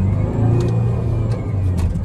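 A Tata Harrier SUV drives along with a steady low engine drone and road rumble inside the cabin, held at a constant pace for a couple of seconds.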